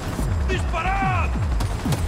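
Gunfire in the video game Cyberpunk 2077: a rapid series of loud, booming shots with falling tails, mixed with a brief whistling tonal sound, filling about two seconds at close range.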